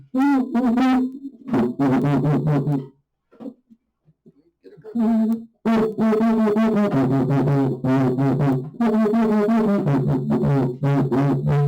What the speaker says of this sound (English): So the Cuica sounds like this.